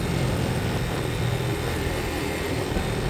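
Motorcycle engine on a rough, challenging mountain road near Keokradong, Bandarban, running as a steady, loud, continuous drone with broadband road and wind noise throughout.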